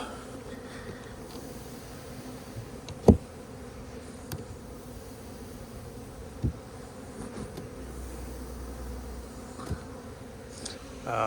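Honey bees buzzing around a hive after rain, a soft continuous hum with individual bees passing close to the microphone as brief sharper buzzes.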